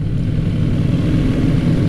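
Steady low rumble from a CFMOTO 800 NK motorcycle, a 2023 model, with airbox growl and exhaust tone running continuously and fairly loud throughout, close by with no talk over it.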